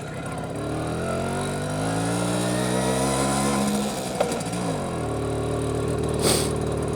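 A 1964 NSU Quickly S23 moped rides off on Chobham Common, its small engine buzzing steadily and loudly up close, the pitch rising and falling with throttle and gear changes, with wind noise over it.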